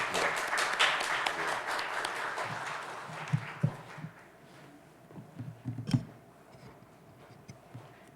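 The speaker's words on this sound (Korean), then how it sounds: "우리 처음 만났으니까 우리 환영하면서 박수하겠습니다." Church congregation at a New Year dawn prayer service claps to welcome the pastor, a short burst of applause that fades quickly, leaving scattered soft knocks and rustles in a quiet hall.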